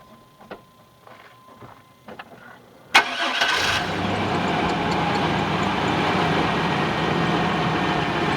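A 1997 Chevy Blazer engine cranks with a few faint clicks, catches with a sharp burst, then settles into a steady, loud idle that runs on close by with no talking.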